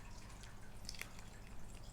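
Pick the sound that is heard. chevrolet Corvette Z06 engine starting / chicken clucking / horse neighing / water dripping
water dripping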